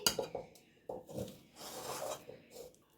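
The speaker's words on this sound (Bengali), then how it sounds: "কড়াই থেকে আমি নামিয়ে নিচ্ছি।" Dry, thick cooked lentils are scraped out of a metal kadai, giving several close, rasping strokes of a utensil against the pan with short pauses between them.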